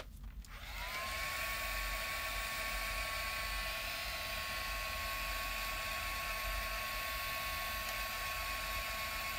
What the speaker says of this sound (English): we're going to hit this with a heat gun too to help swirl some of this around